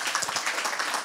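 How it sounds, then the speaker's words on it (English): An audience at a talk event applauds a speaker, a dense, steady wash of many hands clapping close by, holding at an even level for about a second with no voices. "can we thank Hugo with a round of applause?"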